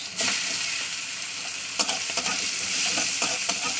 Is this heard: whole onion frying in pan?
yes